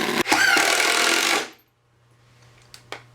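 A power drill drives a 2-inch screw board onto board in a workshop, giving one loud, rough whirring burst of about a second and a half, then falling quiet with a couple of small knocks.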